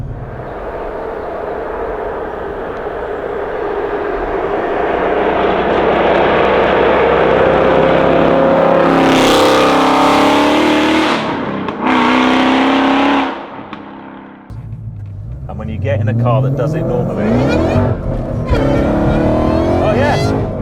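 An 862bhp supercharged Mustang GT accelerates hard from inside the cabin, engine roaring and rising through gears with a sharp gear-change break and loud revs, while people talk over it.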